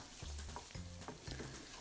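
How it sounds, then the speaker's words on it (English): Steady sizzling of vegetables frying in a pan, with repeated low scraping stirs roughly every half second, close and continuous, no voices. "while I'm frying one vegetable, I'm cutting another"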